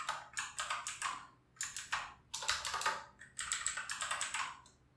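Rapid bursts of computer keyboard typing while writing PHP code for a Laravel ecommerce project, fast clattering keystroke runs separated by short pauses, close and clear with no talk.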